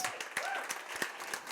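An audience applauds Fabi and Mats at the opening address of a Bitcoin event, with steady, dense clapping that carries through the whole short stretch at moderate loudness and has no voices over it.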